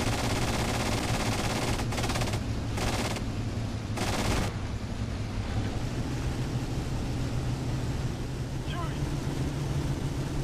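Rapid bursts of 20mm aircraft cannon fire in the flight combat game IL-2 1946 over a steady loud engine drone, with short gaps between volleys in the first half, then engine noise alone.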